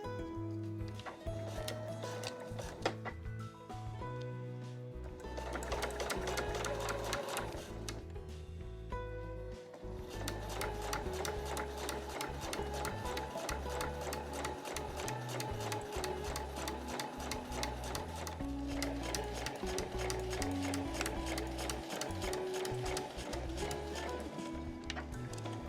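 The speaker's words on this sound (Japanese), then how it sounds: "そうしたら際を縫います。" A sewing machine stitches along the folded edge of a tote bag, running in long continuous bursts with brief pauses, its rapid mechanical clatter close and steady.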